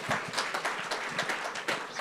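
An audience at the Aspen Security Forum applauds, with dense, steady clapping from many hands holding at an even level for the full two seconds.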